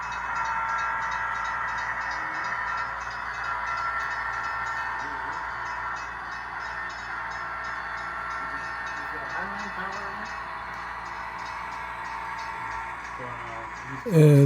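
An HO scale model BN coal train rolls along the track, a steady mechanical hum and rail clatter running continuously at close range, with a sharp louder burst right at the end.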